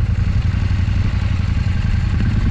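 A loud, close motorcycle engine chugs steadily, its low rumble constant and slightly rough throughout.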